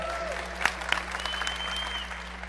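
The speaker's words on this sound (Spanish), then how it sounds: "Un aplauso, por favor" Audience applause at a robotics camp closing ceremony, a steady wash of clapping from a crowd with a few sharper nearby claps, under faint background voices.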